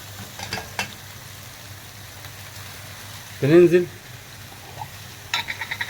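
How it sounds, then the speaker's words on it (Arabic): Potatoes and onions frying in a pan, with soft sizzling and a burst of stirring scrapes midway, then brief clinks near the end; a voice speaks over the cooking. "بعد ما بنحمر حاجه بسيطه كده البطاطس مع البصل"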